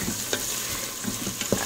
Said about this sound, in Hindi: तो ऐड किया ऑनियन, और ऑनियन को होने देते हैं थोड़ा गोल्डन, थोड़ा सा कलर चेंज हो जाए, थोड़ा फ्राई हो जाए।